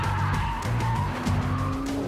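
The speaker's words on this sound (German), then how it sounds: "Zum Ende noch ein kleiner Drift." A car drifts during race driving, its tires squealing in a steady, loud screech over the strained, droning engine for a couple of seconds.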